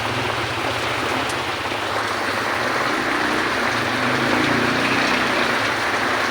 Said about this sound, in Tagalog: Ayan na, bumuhos na yung ulan.